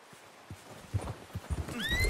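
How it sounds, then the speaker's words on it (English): Horse hooves clip-clop on the ground in Red Dead Redemption 2, a quick uneven run of close thuds, ending with a brief whinny-like rising tone. "Get that horse in line, Arthur."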